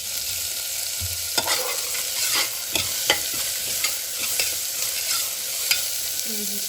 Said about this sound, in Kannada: ಸೊ ಈಗ ಈರುಳ್ಳಿ ಹಾಕಿದ್ಮೇಲೆ ಬಟಾಣಿ ಹಾಕ್ಕೊಳ್ತಾ ಇದ್ದೀನಿ